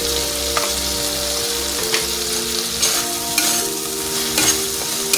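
Masala sautéing in oil in a pan for ghugni, a spicy-tangy curried pea dish, with a steady close sizzle broken by repeated scraping stirs of a spatula, and a low hum running throughout.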